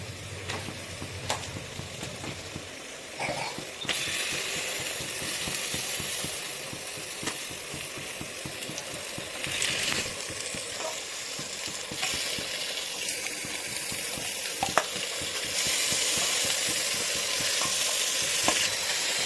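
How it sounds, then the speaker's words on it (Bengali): Mutton fries with browning onions in a pan, a steady loud sizzle broken by scraping stirs and bursts of crackle as the meat settles into the hot oil, with no talking. "আর সেই সময়তে আমি দিয়ে দেবো খাসির মাংস, এই যে দিয়ে এটা পেঁয়াজের সাথে আবার কিছুক্ষণ ভাজা হবে।"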